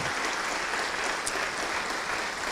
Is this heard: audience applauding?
yes